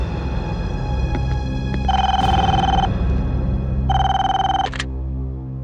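A telephone rings with two electronic bursts, each about a second long, over a steady background hum in a tense office scene.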